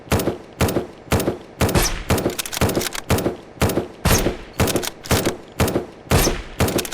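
Bursts of gunfire aimed at turrets in the zombie survival game Surroundead ring out in a steady rhythm, about a dozen loud, close volleys repeating roughly every half second with short gaps and no talk.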